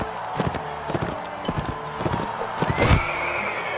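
A horse in the video game Mount & Blade: Warband whinnies loudly while hooves clip-clop in a steady rhythm close by, the neigh rising near the end.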